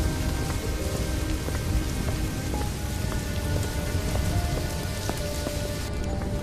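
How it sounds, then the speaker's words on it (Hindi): Heavy, steady rain pours down with a dense constant hiss and spatter, a low rumble underneath, continuous and loud throughout. "रास्ते में बहुत जोरों से बारिश शुरू हो जाती है"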